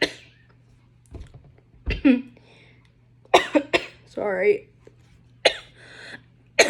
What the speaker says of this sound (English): I got a cough again for some reason